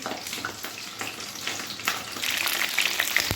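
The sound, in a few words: potato-stuffed capsicums frying in oil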